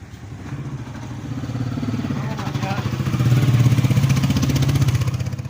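A motorcycle engine runs close by with a steady, throbbing putter that grows a little louder midway and keeps up a rhythmic pulse to the end.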